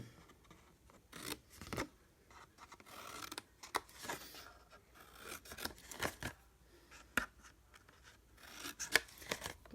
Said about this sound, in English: Cut those score lines.